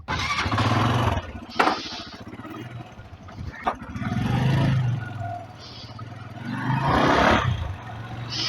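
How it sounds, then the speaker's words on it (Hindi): A motorcycle engine, just repaired after breaking down in rain, idles and revs in uneven bursts, rising and falling in pitch, close by, with a few sharp clicks and knocks in between. "उसने अभी वो ठीक कर दिया, बाइक स्टार्ट हो गई है।"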